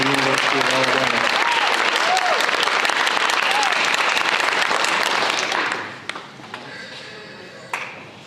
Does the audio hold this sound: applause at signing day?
yes